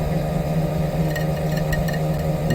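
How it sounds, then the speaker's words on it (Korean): Sunstar KM-76 leather skiving machine grinding a knife blade on its whetstone, a steady motor hum with a strong low drone and faint intermittent scraping ticks, continuous and fairly near, no talking. "이렇게 칼날이 갈리는 거고요"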